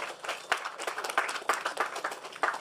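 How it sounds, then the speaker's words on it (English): Applause at an outdoor sign unveiling ceremony for a housing development on a rainy day, a small crowd clapping unevenly with occasional louder claps, fairly close. "Let's give him another round of applause."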